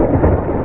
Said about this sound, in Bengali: বিদ্যুৎ চমকের সঙ্গে বাজ ডাকলো একবার